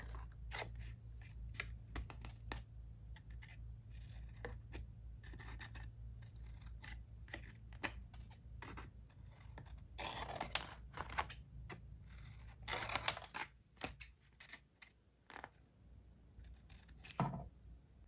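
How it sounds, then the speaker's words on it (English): Scissors cutting small slits in paper wrapped around a cardboard piece, quiet close snips and rustling scrapes in short irregular bursts over a low background hum. "So first I'm just gonna make a few little slits."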